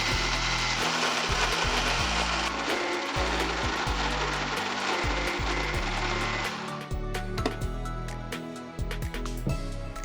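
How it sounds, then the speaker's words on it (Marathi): Kitchen mixer grinding raw mango pulp with sugar, a steady loud whirring grind with rhythmic knocking pulses that thins out toward the end. "आपण हे मिक्सरला वाटून घ्यायचे साखर बारीक होईपर्यंत"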